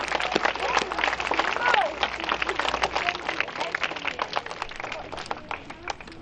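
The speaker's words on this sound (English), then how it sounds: "let's give him a big round of applause" Outdoor crowd at a street dedication clapping for the mayor, a dense close round of applause that thins out and becomes more scattered toward the end.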